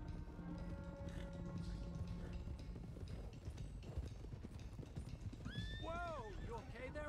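Horses in Red Dead Redemption 2 clop along at a steady trot throughout, and near the end one lets out a loud, wavering neigh, with someone talking over the hoofbeats.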